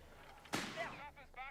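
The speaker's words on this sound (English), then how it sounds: "Reakly artillery is coming down." A single sharp artillery blast from Company of Heroes 3 bursts out abruptly, then trails into a rumbling, crackling decay against a quiet battlefield backdrop.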